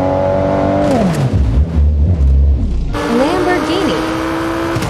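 A Toyota car engine revs over about five seconds, its tone climbing, dipping low, then surging again in a loud, steady, close-up roar.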